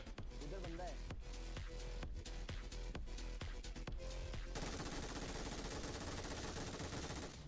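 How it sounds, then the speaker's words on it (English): MG3 machine gun in a video game firing sustained bursts, dense rapid gunfire layered under loud game sound throughout, with a heavier continuous barrage in the latter half. "that MG3's got bullets for days"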